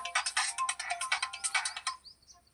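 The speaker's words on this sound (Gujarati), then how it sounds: "ફોન આવ્યો છે" A mobile phone rings for an incoming call, a bright electronic ringtone in quick repeated bursts that stops after about two seconds, followed by a faint chirp and quiet.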